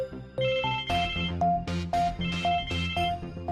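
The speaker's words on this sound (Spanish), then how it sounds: "Un día suena el teléfono." A telephone rings in a Spanish organ-donation setting with a melodic ringtone: repeated bright electronic tones in a steady pattern, loud and close, with no talking.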